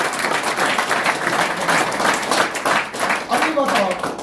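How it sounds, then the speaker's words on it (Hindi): An audience applauds at a product awareness session, with dense, steady clapping that fills the whole stretch at a fairly loud level and never drops out. "तालियां बजाएं।"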